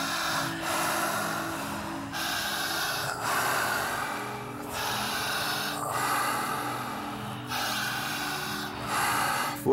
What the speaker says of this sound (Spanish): Jalamos el aire por la boca.